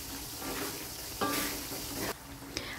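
Shallots and shrimp paste frying in a pan for Manado-style smoked skipjack sambal, a steady close sizzle with brief stirring scrapes and clatters.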